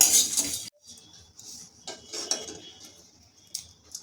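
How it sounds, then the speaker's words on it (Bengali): Roasted nuts stirred in a little hot oil in a kadai, a few close scraping and clinking strokes of a utensil against the pan in short bursts, with no voices. "এবার আমি দিয়ে দিচ্ছি রোস্টেড বাদাম। এটা সামান্য একটু তেলের সাথে নেড়ে নেব।"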